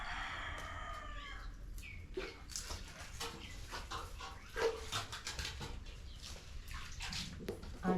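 A rooster crows faintly in the distance at the start, followed by quiet farmyard ambience with occasional clucks and a dog nearby.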